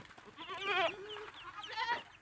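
Farm goats bleat nearby, two wavering calls a second or so apart, moderately loud against a quiet background.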